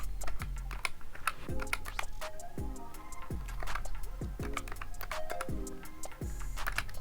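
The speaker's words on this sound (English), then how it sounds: "Let's go ahead and type these numbers in." Numbers are keyed into a computer keyboard in quick bursts of close, crisp clicks with occasional heavier key thumps. The pace is uneven and no one speaks.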